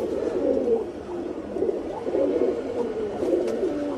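Pigeons kept as breeding stock in a home loft coo steadily, several low rolling calls overlapping close by and continuing throughout without pause, with no voices.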